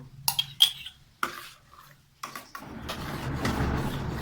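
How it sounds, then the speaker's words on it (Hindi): A spoon stirs coconut custard in a pan, with a few scattered metallic clinks and scrapes, then a steady soft bubbling and rustle toward the end. "इसमें आपने चम्मच चलाते जाना है"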